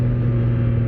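A 2025 Triumph Trident 660 motorcycle pulling hard under acceleration, with a loud, steady low engine drone that holds through the whole second, no voices heard.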